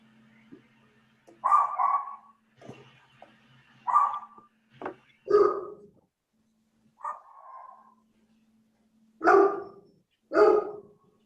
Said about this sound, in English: My dog is barking because there's somebody on this meeting who's got a dog barking